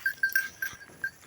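Goats on a rural hillside near a bridge give several short, thin bleats in quick succession, faint and a little distant, with no talking.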